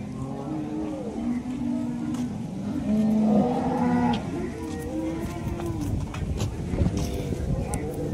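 Cows at the Loni cattle market in Maharashtra low repeatedly, several overlapping moos near and far amid crowd murmur, with someone talking over the bellowing.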